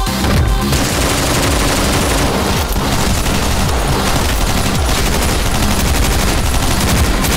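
Light machine gun fire in the video game OTXO roars on as a dense, loud, continuous barrage of rapid shots and booms that fills the whole stretch without letting up.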